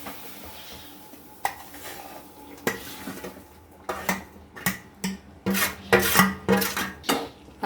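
Semolina being stirred in a pan for sweet rava shiro, a series of rhythmic scraping and rubbing strokes of a spoon against the pan, growing quicker and louder, with no voices.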